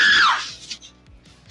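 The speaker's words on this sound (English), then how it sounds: "she comes home from a date and she does this scream" A woman gives a high, excited scream of delight in a teen film scene, loud and brief, fading out within half a second.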